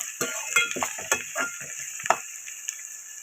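Prawn biryani ingredients frying in hot oil in a pot, with a steady sizzle and bursts of clinking stirs against the pan. The stirring comes in irregular strokes, close and moderately loud, and no one talks.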